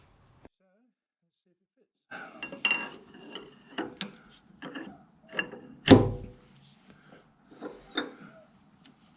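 A metal die holder being fitted onto a lathe tailstock, giving a series of metallic clunks, scrapes and ratcheting clicks with one sharp louder knock midway, close by.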